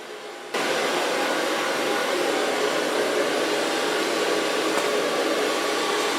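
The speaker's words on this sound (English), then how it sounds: "So far blow drying." A hair dryer switches on and blows a steady, loud, continuous whoosh up close while hair is being blow-dried, with no voices.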